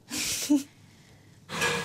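A single sharp sneeze bursts out with a sudden intake of breath, followed by a short quiet pause and then another breathy exhale nearby.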